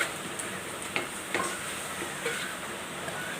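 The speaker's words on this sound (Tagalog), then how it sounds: "Haluin natin habang ginigisa yan." Vegetables for pancit sautéing in a pan, a low continuous sizzle broken by a few light scrapes and taps of a utensil, fairly quiet and close.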